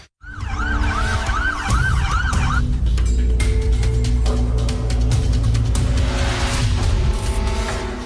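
An ambulance siren at Bogotá El Dorado airport starts with a loud wailing sweep, then shifts to other siren tones over running engine noise, close and continuous.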